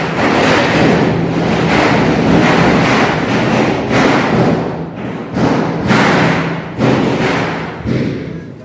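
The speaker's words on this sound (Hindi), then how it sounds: "बहुत ज़्यादा पटाखों की आवाज़ आ रही थी।" Diwali firecrackers burst near and loud in a rapid series of heavy booming thuds, several overlapping, then sharper separate bangs with short gaps toward the end.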